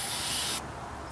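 A spray bottle gives a single short, hissing spritz onto a high item, close and fairly loud, then cuts off abruptly into quiet room tone.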